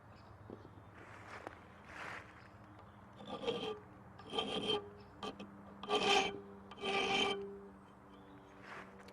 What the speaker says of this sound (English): So if we put it in the vise, we can try filing it for a start